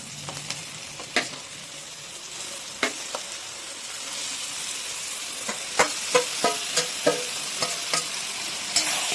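Roasted mashed eggplant is stirred in a pan over a high gas flame, with a soft sizzle underneath and a run of scraping spoon strokes that turns rapid and rhythmic toward the end.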